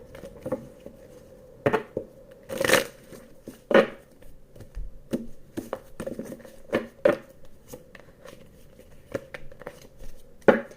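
Cards being shuffled with repeated crisp riffling and snapping bursts, some sharp slaps scattered across the clip, close and fairly quiet.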